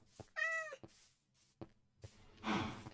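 A cat in Minecraft gives a short, clear meow, then a second, breathier mew, each brief and close among soft game sounds.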